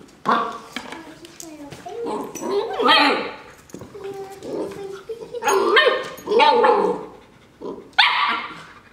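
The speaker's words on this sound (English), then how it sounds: "Her bark is so annoying." A small dog yaps in sharp, high-pitched bursts, close and loud, with people talking between the barks.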